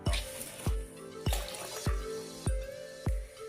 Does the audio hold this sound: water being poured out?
yes